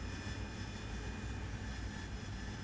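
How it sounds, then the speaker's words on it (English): Harrier jet engine in a flight simulator, a steady roaring whine with a high tonal hum over broad low rumble, held at constant moderate level without speech. "You just heard your engine spool up."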